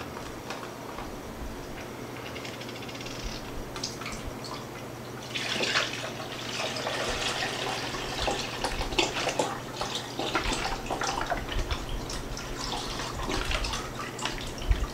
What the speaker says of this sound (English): So now we're going to add 2 cans of beef broth.